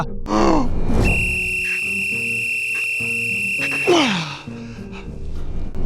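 A loud, steady high whistle held for about three seconds, with breathy sounds and a short falling vocal noise before and after.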